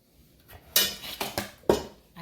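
A plate and dishes are handled in a kitchen, with three distinct clattering clinks of crockery set down close by over a quiet background.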